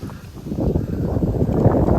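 Cold wind buffets the microphone outdoors at a scenic spot in Surigao, a steady low rumbling roar that swells slightly and stays loud throughout.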